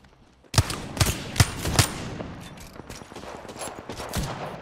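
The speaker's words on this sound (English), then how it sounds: "Are they getting shot from someone else?" Gunfire in Apex Legends: four sharp, loud shots crack in quick succession, followed by a looser spray of fainter shots and rattling fire.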